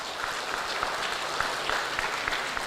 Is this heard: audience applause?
yes